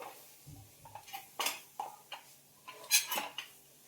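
A metal utensil stirs and scrapes carrot barfi ingredients, including milk powder and desiccated coconut, in a pan in a home kitchen. The sound comes as several close, clinking, scraping strokes of uneven rhythm with short pauses between them, and no one talks.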